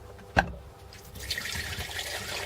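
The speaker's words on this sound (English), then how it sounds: "I'm just pouring the fuel in" Fuel is poured into an empty replacement fuel filter to prime it. A sharp knock comes first, then a steady trickling pour runs on close by.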